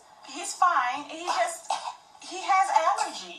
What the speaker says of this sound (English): Not with that cough.